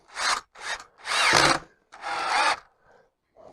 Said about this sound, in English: Put the screwdriver bit into the drill.